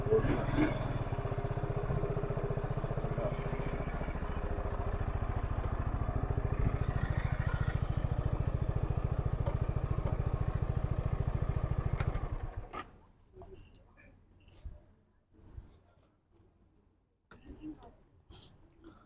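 A motorcycle engine idles loudly and steadily with a low rumble for about twelve seconds, then cuts off, leaving quiet with faint scattered sounds.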